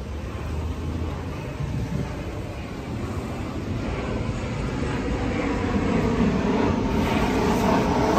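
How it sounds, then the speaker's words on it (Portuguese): A steady, broad jet-engine roar of an airplane passing overhead, sustained and fairly loud, with no voices. "Ó, avião."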